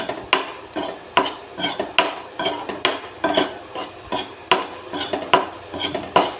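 Spice powders for chicken curry are stirred and roasted in a pan, a spoon scraping the metal in brisk, regular strokes about twice a second, loud and close, with faint sizzling underneath and no talk.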